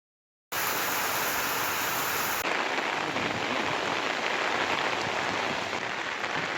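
Rain falls on a rooftop terrace in a steady, dense hiss that starts abruptly and continues unbroken to the end, with no voices.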